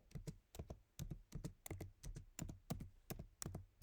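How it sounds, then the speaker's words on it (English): Someone types a search on a computer keyboard, a close, quiet run of crisp individual keystrokes in a steady, evenly spaced rhythm with brief pauses between groups. "and then I'm gonna type in new technologies"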